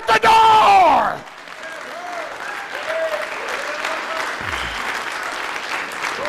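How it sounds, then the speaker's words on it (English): A church congregation applauding in praise; a voice rings out briefly at the start, then a steady wash of crowd clapping continues, moderately loud, with faint voices in it. "Let's give the Lord a hand clap of praise in his house today."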